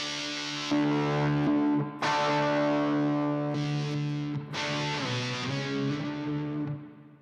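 An electric guitar rings through a Princeton amp, sustained bright chords and notes with reverb, struck several times and left to decay, no talking.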